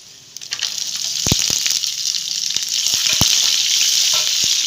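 Onions sizzling and frying in a hot pan with cumin seeds and three dried red chillies, a steady bright crackle with sharp stirring clicks and spatula taps, close and loud, no talk.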